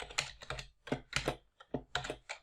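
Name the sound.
typing on a computer keyboard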